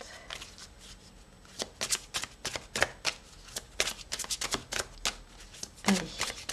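Tarot cards being shuffled by hand, a quick run of crisp riffling and slapping bursts in close succession, near and fairly loud, repeating in clusters with brief pauses.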